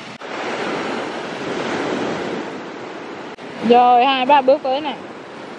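Sea waves washing ashore at a beach resort, a broad hissing surf with some wind on the microphone, steady and fairly close, then someone speaks over it.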